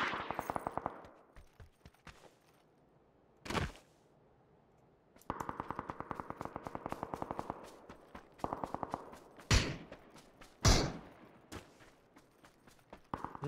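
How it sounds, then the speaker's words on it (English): Gunfire in the video game PUBG: rapid automatic bursts crackle in long volleys, broken by a few sharp louder single shots and short quiet gaps, moderately distant. "Boyfriend's shooting at something."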